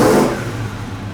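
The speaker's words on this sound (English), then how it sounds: "Listen to the motor, though. Listen to this." A revived project car, abandoned for 17 years, has its engine revved: one loud, close rev at the start that drops back to a steady rumbling idle.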